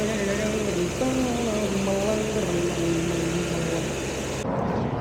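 Tractor engine drones steadily and loudly close by, a continuous low rumble with shifting tonal lines, cutting off near the end as the sound changes.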